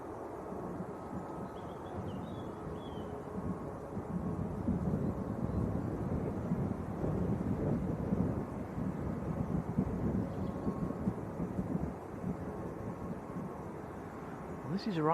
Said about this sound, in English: This is Ryanair to Dublin that's coming across, 737-800.